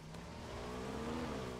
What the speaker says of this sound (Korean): 오토바이 소리